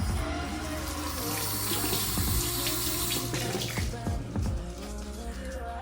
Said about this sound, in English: And then I'm gonna go ahead and wet the sponge.